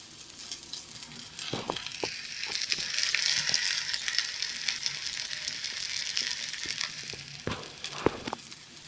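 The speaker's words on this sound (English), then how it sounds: "let it brown off a little, and then spatula under, flip it over" A couscous bean burger fries in sunflower oil with a soft, steady sizzle, crackling faintly throughout, with a few sharper clicks and taps from a spatula near the end and no voices.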